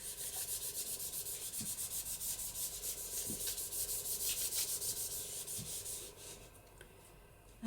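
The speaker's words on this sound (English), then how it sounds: "burnish along that bottom fold." A folded paper pocket in a journal is burnished flat along its bottom crease. Quick, steady, rhythmic rubbing strokes sound close and soft, then stop near the end.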